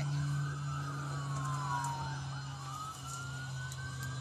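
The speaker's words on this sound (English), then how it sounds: "Fire truck." A fire truck siren wails from a nearby highway, rising and falling steadily over a low engine hum and distant traffic, no talking.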